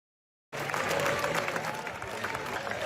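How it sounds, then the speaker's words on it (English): Audience at the Venice Film Festival world premiere of The Smashing Machine breaks into loud, sustained applause after a moment of silence, a dense wash of many hands clapping at once with crowd noise mixed in. "Look at the clapping."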